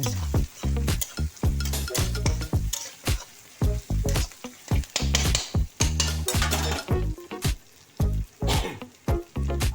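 Mashed ginger paste frying with browned onions in a pan for a Bengali eggplant, potato, long bean and bori vegetable dish, with repeated loud clanks and scrapes of a utensil stirring against the pan over a low sizzle.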